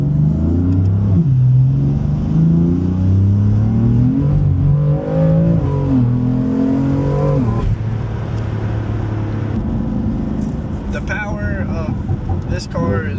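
BMW M3 engines, the G80 and F80 models, revving repeatedly with rising and falling throttle blips, loud and close, while people talk over the engine throughout.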